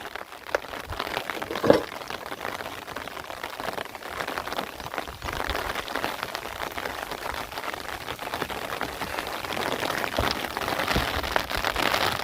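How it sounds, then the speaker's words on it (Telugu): Heavy rain pours down outdoors as a storm comes in, a steady, dense hiss of drops on surfaces with a few louder close hits. "ఇక వర్షం వచ్చేటట్టు ఉన్నది బాగా పా తడిసిపోతాం"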